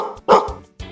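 A dog barks in a few sharp, close, loud woofs separated by short gaps, set within a children's animated musical.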